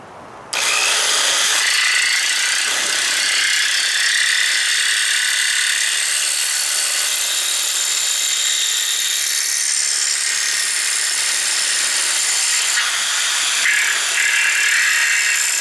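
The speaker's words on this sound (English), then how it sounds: "I'm going to use a jigsaw, we'll just notch that out on both sides" A jigsaw cuts a notch in a teardrop trailer fender, its harsh buzzing whine starting abruptly after a brief pause and running loud and steady to the end.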